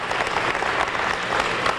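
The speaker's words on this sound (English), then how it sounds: "Give him a big round of applause." At a mayor's town hall, the audience breaks into applause, dense and steady clapping from a roomful of people, loud and sustained without a voice over it.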